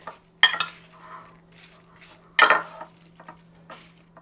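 Utensils tossing cut red fruit in a bowl, two distinct clinking scrapes with lighter clatter between and after, close in a quiet room.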